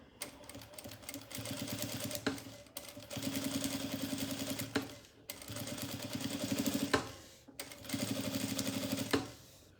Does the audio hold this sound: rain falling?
no